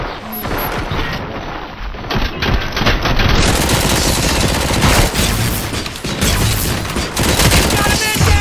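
Gunfire in the video game RoboCop: Rogue City: dense, rapid automatic bursts and booms overlap in a sustained firefight, loud and relentless from start to finish.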